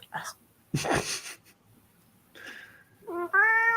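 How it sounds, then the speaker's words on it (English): A house cat meows right up close, with a short meow, a breathy sneeze-like burst and then a loud, drawn-out meow at the end, in a quiet room with no talking. "Oh, just meowed into my mouth."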